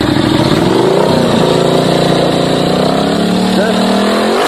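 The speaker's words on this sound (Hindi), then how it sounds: "अरे बाइक हटा सामने से, अरे बाइक वाले को बोला भैया, बोलिए जल्दी से, बाइक हटाए।" Motorcycle engine idling nearby on a street: a loud, continuous, throaty drone whose pitch wavers and dips slightly, filling the whole stretch.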